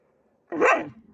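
A small, timid dog gives a single sharp bark at close range, rising abruptly out of near silence and trailing off with a low growl.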